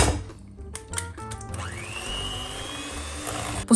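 An electric mixer beats room-temperature eggs into sponge cake batter, clattering briefly before the motor rises into a steady whirring whine, close and moderately loud.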